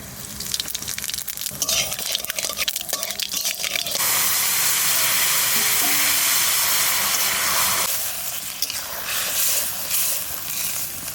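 Hill eggplant and live koi fish fry in hot oil with a whole-cumin tempering, a close crackling sizzle that swells into a loud, dense hiss in the middle before easing back to a sputter.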